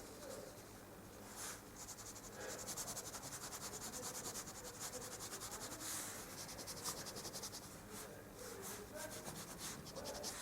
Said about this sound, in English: now if I'm going to go rub some details out